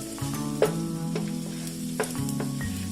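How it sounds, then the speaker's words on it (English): Garlic sautés in hot oil in a pan for adobo, a continuous close sizzle with a few sharp knocks from stirring. "So just try to saute the garlic a little more, but don't overdo it so that it do not get burnt"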